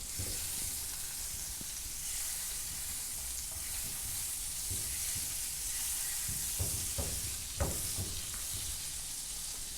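A chocolate sandwich sizzles in a buttered pan, a steady, quiet frying hiss with a few small pops and crackles toward the end and no talking.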